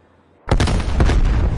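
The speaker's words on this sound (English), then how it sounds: "Sending frag grenade." Frag grenade going off in Call of Duty, a sudden loud close explosion that bursts out of near silence and lingers as a sustained rumbling roar with crackling debris.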